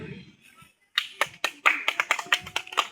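A congregation claps in a church service, with a string of sharp, closely spaced handclaps that start after a quiet, muffled opening and continue steadily, fairly close and loud.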